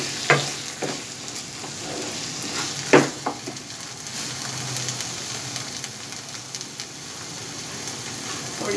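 Ghee sizzling in a pan while halwa cooks, a steady close crackle and hiss with occasional stirring knocks.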